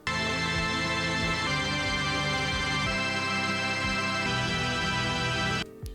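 A minor-key chord progression played on a synth in Ableton, with added lower and higher notes, rolls through several sustained chords while a bass line moves below, ending abruptly.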